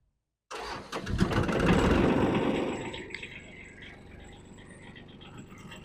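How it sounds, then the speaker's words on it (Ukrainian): After a brief silence the small diesel engine of a Kubota Aste compact tractor cranks and catches, roaring up loudly, then settles into a steady, rattling idle close by. "ми чекаємо, поки він згасне і заводимо тракторець"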